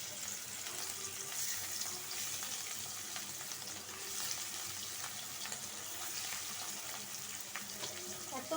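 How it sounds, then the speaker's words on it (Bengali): Catla fish frying in hot oil in a wok, a steady, dense sizzle and crackle running throughout at moderate level with no talk. "কড়াই বসাই দিছি তেল দিয়ে দিছি গরম হয়ে গেছে এখন মাছ দিয়ে দিব"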